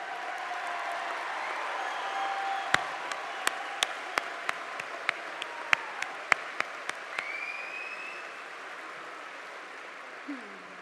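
A graduation audience at a high school ceremony in a convention center applauds its valedictorians: a broad, steady wash of crowd clapping with a few sharp, distinct claps standing out nearby. The applause then thins slightly toward the end.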